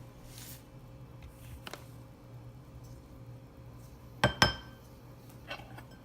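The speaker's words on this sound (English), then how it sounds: "I'll take 2 spoons of each and then mix it very well." A spoon stirs instant rava idli mix with curds in a bowl, giving soft scraping and a couple of sharp clinks against the side, quiet apart from a brief louder clatter near the end.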